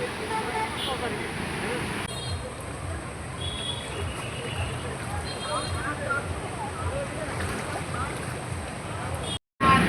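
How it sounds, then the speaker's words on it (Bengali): Steady rushing river water with waves churning and lapping, a continuous broad wash of sound heard close by, on the Baral River at Charghat, Rajshahi, Bangladesh. "পানির অনেক ঢেউ"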